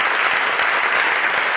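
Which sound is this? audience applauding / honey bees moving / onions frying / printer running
audience applauding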